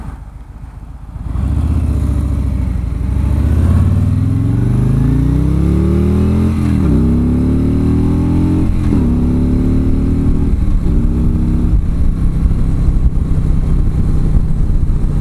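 A 2017 Harley-Davidson Street Glide Special's V-twin engine rumbles loud and close, revving up in repeated rising sweeps that drop back and climb again over a steady idle, with nothing else heard.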